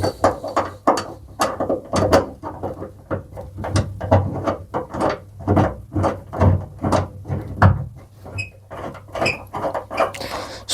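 Classic Mini bucket seats squeak and creak repeatedly as they are fitted, a rhythmic series of short scraping, ratcheting squeals close by with no talking.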